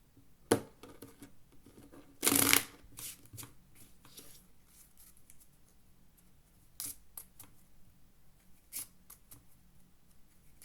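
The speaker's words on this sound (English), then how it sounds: "And one more shuffle." A deck of playing cards is shuffled at a poker table, heard as a sharp riffle burst after a few scattered taps and card snaps, with more light clicks and flicks spaced apart afterward.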